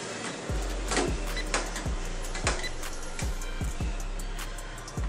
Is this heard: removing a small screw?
yes